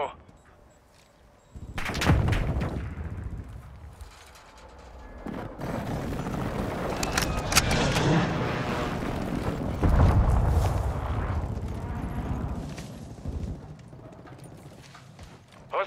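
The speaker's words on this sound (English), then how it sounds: "Friendly airstrike in the AO." A friendly airstrike in Call of Duty: Modern Warfare II sets off a string of heavy rumbling explosions over several seconds, with a radio-style voice heard alongside.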